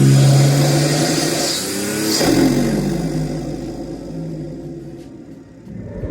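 A BMW 440i Gran Coupe fitted with a Venturi cold air intake revs up loud and close, a deep rumbling engine note that swells, eases off and swells again.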